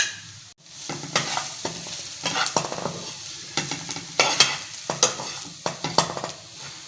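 Spices and dry ginger powder roast in a pan for samosa filling, a low sizzle under frequent rhythmic scraping and tapping of a spoon stirring against the metal, close and without speech.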